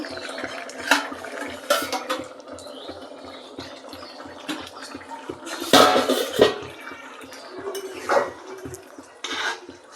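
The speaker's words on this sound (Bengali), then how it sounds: "এবার আমি ঢাকনাটা খুলে নিচ্ছি" A metal lid clanks and scrapes as it is lifted off a pot of simmering jackfruit, with several utensil clinks over a steady low kitchen hum and no voices.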